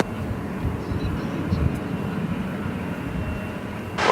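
An Envoy airliner rolls for takeoff on runway 18 left at DFW at night, a steady, broad engine roar heard from a distance, continuous and fairly even, with faint radio chatter in the background.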